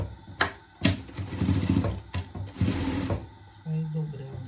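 A sewing machine stitches a hem on a fabric pet jester costume in several short, fast whirring runs broken by brief pauses, heard up close with someone speaking between the bursts.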